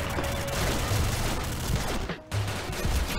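Dense gunfire rattles through a round of the video game Combat Arms Reloaded, loud continuous automatic bursts with a brief pause near the end before shooting resumes.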